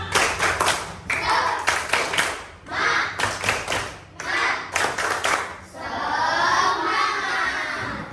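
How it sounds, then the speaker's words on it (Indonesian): Classroom of children doing a rhythmic spirit clap, bursts of patterned group clapping in quick sets with short pauses, ending in a sustained wash of clapping and voices. "Tepuk semangat dulu ya."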